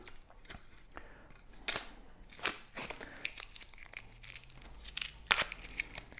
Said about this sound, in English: I'm just going to take off this tape that's holding the pieces together